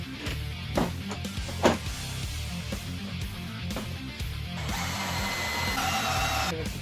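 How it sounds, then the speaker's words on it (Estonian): A power drill bores screw holes in a wooden bench frame, whirring in several short, close bursts, then running a steadier, higher-pitched stretch near the end; no talk. "need kruviaugud, mis ma just puurisin"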